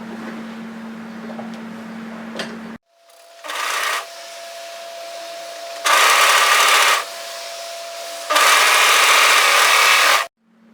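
An overlocker sews a seam on a raglan crossover top in three separate bursts of rapid, close mechanical whirring, with short pauses between runs and a quieter hum before the first burst.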